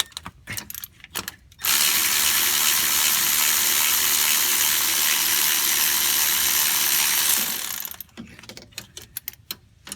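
A ratchet with a standard 12-point socket works the water pump bolts on a 2008 BMW 535i, giving a sustained, dense stretch of rapid mechanical clicking for several seconds, with scattered separate clicks and handling knocks before and after.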